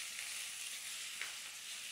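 Fenugreek greens fry in an oil tempering while being stirred for methi pitla. A quiet, even hiss holds steady throughout, with one faint scrape of stirring partway through.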